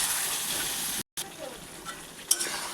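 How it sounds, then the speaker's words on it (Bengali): Potatoes frying in a home-kitchen pan while being stirred, a steady broadband sizzle with a short silent break midway and a few scraping clinks, close and alone. "এবার নাড়াচাড়া করব।"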